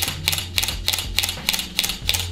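A steady run of camera shutter clicks from a Canon T1i DSLR in burst mode at a moderate pace, each one distinct, close to the listener, repeating without pause.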